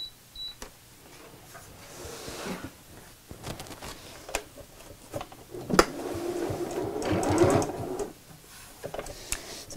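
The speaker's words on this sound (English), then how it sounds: "I'm just going to put a few stitches in the sides just to hold that in place" A sewing machine runs in short bursts, putting a few stitches along the sides of a fabric pouch for a bullet journal; quiet mechanical whirring with small clicks and handling noises, no talk.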